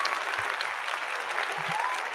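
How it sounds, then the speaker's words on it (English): Clapping applause played for a viewer shout-out, a brief dense burst of many hands clapping, steady and moderately loud throughout. "I'm going to give you a nice clap and shout out as well"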